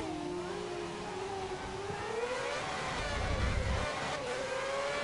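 Formula One race car engine from the F1 2010 racing game, revving with a rising and falling synthetic whine and steady mid-level drone, strongest near the end, with no talking.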